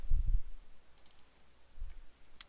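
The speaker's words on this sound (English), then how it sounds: "Okay, so I'm typing it in, adding the image." A few sparse, faint clicks from a computer mouse and keyboard sound close by in a quiet room, with soft low thumps at the start and a sharper click at the end.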